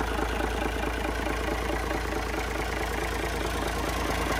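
A Cummins C300 engine idles smoothly and steadily, a close, even low rumble holding constant with no revving.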